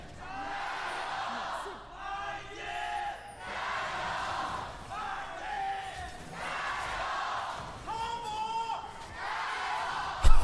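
Esports arena crowd at an LPL League of Legends match, a large audience chanting and cheering in rhythmic swelling waves of voices, sustained throughout, with a sudden loud burst at the very end.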